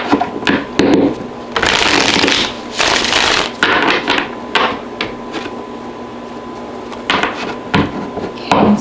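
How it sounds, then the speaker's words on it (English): Tarot cards shuffled by hand for a Cancer love reading, giving bursts of riffling and flapping that come and go in uneven runs, fairly close and fairly loud, with no voice over them. "I'm going to shuffle these. I'm going to get 6 cards, underlying energy for Cancer."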